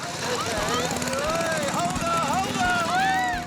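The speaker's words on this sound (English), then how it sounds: "The lawnmower is an antique and quite brutal." An antique lawnmower engine runs steadily and roughly throughout, its drone holding a constant level beneath a voice talking over it.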